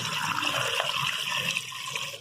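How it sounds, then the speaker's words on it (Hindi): Water poured into a cooking pot over potatoes for aloo tikki, a steady close rushing and splashing pour that continues throughout, easing slightly near the end, with no voices. "अब इसके अंदर हम डालेंगे पानी।"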